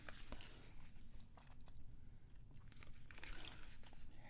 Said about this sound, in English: Here's a gum I'm chewing today